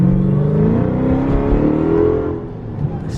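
A Dodge Charger Redeye with a cat-delete exhaust revs loudly up close, its engine note climbing and holding in a throaty drone before falling off, with a brief crackle near the end.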